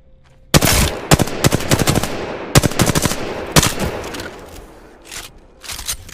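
Loud gunshots in Apex Legends firing-range training, a close, uneven string of sharp cracks and short automatic bursts with quieter pauses between, no talk heard.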